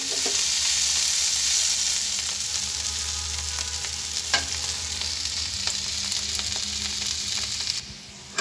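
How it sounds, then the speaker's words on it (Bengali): Teasel gourd stir-fry sizzling steadily in a pan, with occasional scrape-and-clack sounds of stirring; the frying hiss stays loud and continuous, then quietens slightly near the end. "একটু পর পর নাড়াচাড়া করে নেব।"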